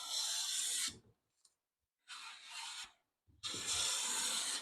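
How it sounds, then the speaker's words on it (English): A hand plane shaves a board of quarter-sawn beech in three long, smooth, hissing strokes at a workbench, each pass followed by a brief clunk and a silent pause, heard close and clear without any talk. "I'm planing a fresh surface on it so that we can do a wood finishing test."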